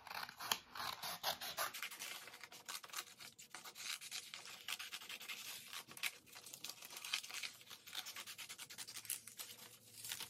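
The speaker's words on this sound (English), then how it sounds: "I'm going to cut two pieces of paper at once." Scissors slice through two stacked sheets of paper at once during a children's craft, giving close, continuous scraping and rustling snips with no talking.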